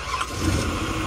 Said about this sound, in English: about to see if the Explorer will start